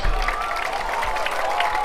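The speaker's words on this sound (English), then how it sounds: "Applause for our Squire cheerleaders tonight." Steady crowd applause and clapping fill the clip at a high school varsity football game, with a low rumble of a large outdoor audience beneath it.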